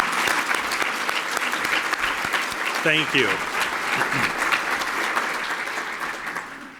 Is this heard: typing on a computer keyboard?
no